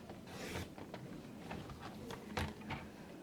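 Blade or knife cutting a paper mat panel for a card topper, producing soft rasping scrapes and brief rubbing strokes, close by and fairly quiet, with a sharper stroke near the end.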